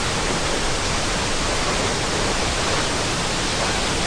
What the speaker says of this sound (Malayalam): ഇത്ര ഭംഗിയുള്ളൊരു വെള്ളച്ചാട്ടം വേറെ ഉണ്ടോ എന്ന് സംശയമാണ്